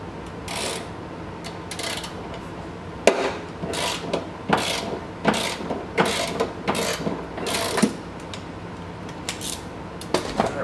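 A ratchet wrench with a 15mm socket works loose the rear center seat mount bolt in a Tesla Model 3, giving a string of sharp, close clicking and ratcheting bursts in an uneven rhythm, with no voices.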